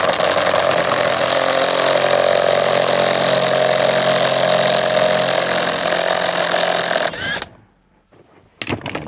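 An impact wrench hammers loudly and continuously on a steering wheel bolt locked with heavy red threadlocker, running for about seven seconds before cutting off, followed by a brief pause and a couple of short clunks.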